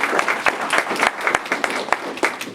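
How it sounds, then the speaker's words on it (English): Applause greeting a county chairman at a realtists' board event, a room clapping loudly and steadily with distinct sharp claps throughout. "Please give Chairman John Eves a round of applause."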